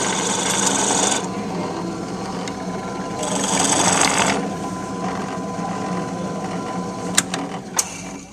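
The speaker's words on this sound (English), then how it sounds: "now he's gonna drill holes in the top" A small power drill whirs in two bursts into wood, with mechanical rattling between and a couple of sharp clicks near the end.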